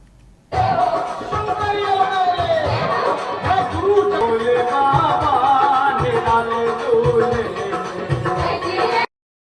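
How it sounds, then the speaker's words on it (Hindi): Devotees crowd Shiva temples in Janakpur during the Shrawan month Monday observances, a dense steady murmur of chatter and movement lasting several seconds, close and fairly loud. "शिवालय सब में भक्तजन सब के भीड़ भाड़ लागल अछि"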